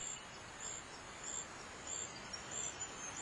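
High continuous trilling of a bush cricket at night, a steady shrill buzz with slight pulsing, alone over a faint hiss.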